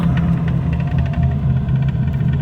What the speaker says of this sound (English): Idling pretty good.